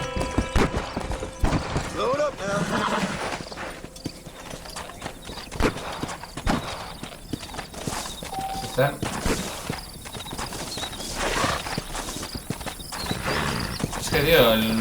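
Steady horse hooves clip-clopping with occasional whinnies in the video game Red Dead Redemption, mixed with game sounds and a voice speaking over the top.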